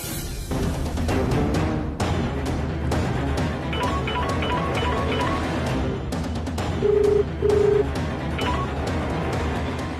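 A phone number is keyed in, a few short electronic beeps sounding over background music in a Telugu TV serial scene.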